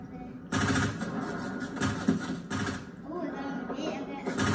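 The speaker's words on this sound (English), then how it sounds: "They're shooting at you." Gunfire in the game Fortnite crackles in several loud bursts of rapid shots, separated by short pauses, close and sharp with a voice talking faintly between them.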